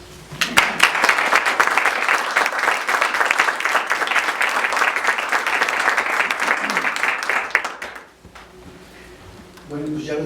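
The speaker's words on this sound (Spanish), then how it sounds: "démosle varios aplausos" Sustained applause from a seated audience at a book presentation for author Roberto Hernández, loud and dense for about eight seconds before cutting off, followed by a quiet room with a faint voice beginning.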